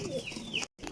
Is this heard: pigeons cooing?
yes